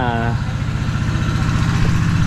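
A small engine runs close by with a steady, throbbing idle, its low rhythmic chug continuing without pause.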